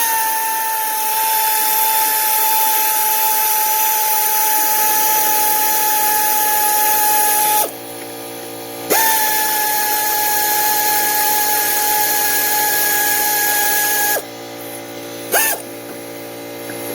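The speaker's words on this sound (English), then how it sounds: "I've got my trusty little air ratchet here" An air ratchet works on coil pack bolts, a steady high-pitched pneumatic whir running in long bursts with short pauses and clicks between them.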